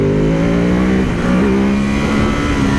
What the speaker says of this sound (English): So let's just hit that quick shifter right now